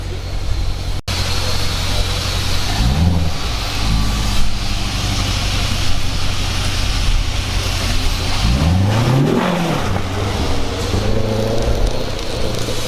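A loud, stock Corvette C7 Stingray engine drones continuously, with two brief revving surges that rise and fall in pitch.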